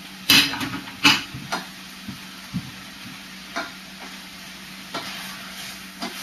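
Mushrooms being stirred into chicken and vegetables in a hot pan, heard as a few sharp scrapes and clatters of a utensil over a soft, steady sizzle, then quieter occasional taps.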